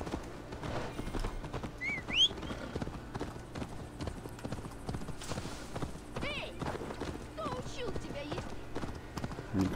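Horse hooves clip-clopping in Assassin's Creed Valhalla, a steady trotting rhythm of hoofbeats under almost continuous male conversation, with a brief whinny midway and scattered game effects.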